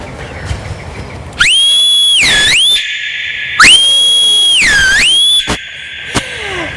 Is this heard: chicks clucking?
no